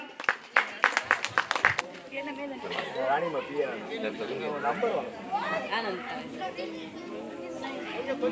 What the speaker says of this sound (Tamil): சிறப்பாக நடனமாடியவர்களுக்கு சிறப்பாக கைத்தட்டல் கொடுக்கலாமே